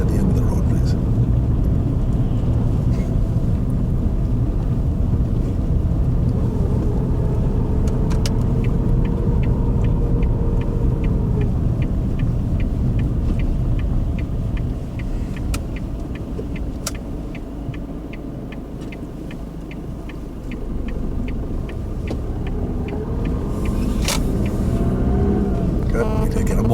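Car engine running steadily while driving during a lesson, a continuous low rumble from inside the car that dips in the middle, with people talking over it and a repeated ticking partway through.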